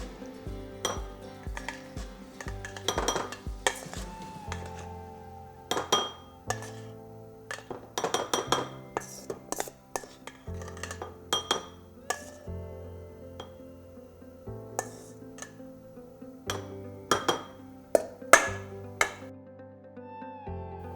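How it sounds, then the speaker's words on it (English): Ingredients for a surimi rice bowl are tossed together in a bowl, giving a steady run of light utensil clinks and scrapes against the dish with irregular, close-up taps. "we're going to toss all the ingredients together"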